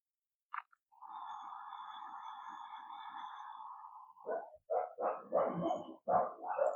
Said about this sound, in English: you can hear my dogs barking downstairs